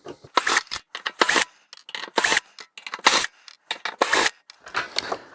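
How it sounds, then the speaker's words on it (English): Cutters snip electrical wires off plugs while e-waste from a charity shop is being processed. Close, sharp clicks and crunches come in an irregular run of separate cuts with short gaps between them. "we'll snip the wires again from their plugs"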